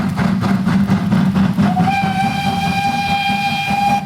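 A train rumbles steadily, then a long steam whistle sounds from partway through and holds its high, steady tone to the end.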